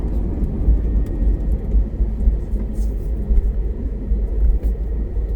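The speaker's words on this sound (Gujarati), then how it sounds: "લેન્ડ થઈ ગયું છે પ્લેન હવે" Low, steady engine rumble inside an airliner that has just landed, a continuous dense drone with no speech over it.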